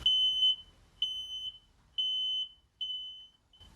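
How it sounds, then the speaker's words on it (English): A shrill electronic initializing alarm on a battery workbench setup beeps in a steady pattern, four half-second tones about a second apart with a fifth starting at the end, clear and fairly faint. "There's that initializing alarm."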